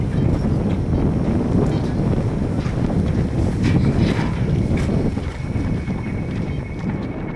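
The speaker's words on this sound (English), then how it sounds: "When the wind is blowing like this," Strong wind blowing at a hang gliding launch on Slide Mountain, a loud continuous rumbling buffet against the microphone with gusty swells, steady for the whole stretch.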